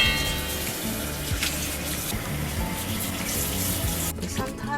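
Warm tap water runs steadily into a sink while mustard greens are washed of sand, a continuous close splashing hiss that stops abruptly near the end.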